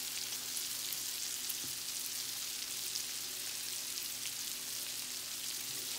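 Shrimp frying in butter in a pan, a steady, even sizzle with bright crackling that holds at a constant level throughout, with no voices.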